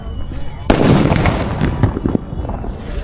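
A firecracker bomb being test-fired, a single loud close blast that bursts suddenly and then rumbles and crackles as it decays over the next couple of seconds.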